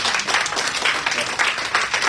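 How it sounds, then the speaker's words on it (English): Audience applause at a diabetes and blood sugar health talk, a continuous wash of many hands clapping at close range, loud and even throughout the short stretch. "Everybody give her a big round of applause."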